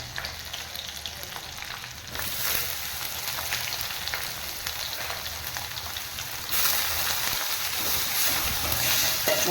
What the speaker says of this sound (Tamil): வெங்காயம் இந்த மாதிரி கலர் மாறிடுச்சு பொன்னிறமாக ஆகுது இப்போ நம்ம இந்த கருவாடை போட்டுக்கலாம்